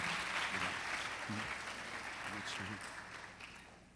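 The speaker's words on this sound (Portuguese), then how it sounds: "Agora dê um forte aplauso ao Senhor" A church congregation applauding together, a dense sustained wash of clapping that slowly fades toward the end, with a voice speaking over it now and then.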